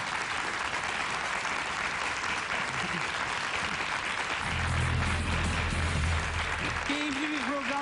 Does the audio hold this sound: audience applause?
yes